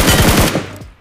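Rapid automatic gunfire in PUBG Mobile, a loud close burst of about five shots in quick succession that then trails off.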